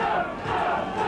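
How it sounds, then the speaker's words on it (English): A crowd at a December rugby league match between Workington Town and Sheffield roars and chants in a sustained, loud wash of massed voices. "Crowd warming to the occasion"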